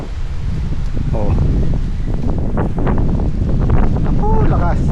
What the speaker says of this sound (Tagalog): Pinapalo ng hangin, eh.